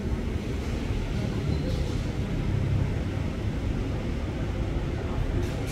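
A steady, loud rumble of a commuter electric train entering Bojong Gede station in Indonesia, continuous low roar with faint higher rattles, no voices.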